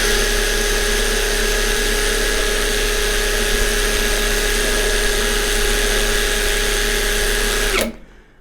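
Worx brushless cordless drill running in its second gear, a loud steady high-pitched motor whine held for about eight seconds before cutting off abruptly.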